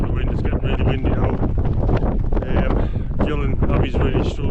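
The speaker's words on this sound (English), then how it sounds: "it's getting really windy now." Strong gusting wind buffets the microphone on a mountain hike up Ben Lomond, a loud, continuous roar that rises and falls in blasts throughout.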